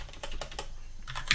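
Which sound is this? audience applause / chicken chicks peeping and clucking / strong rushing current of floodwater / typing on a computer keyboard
typing on a computer keyboard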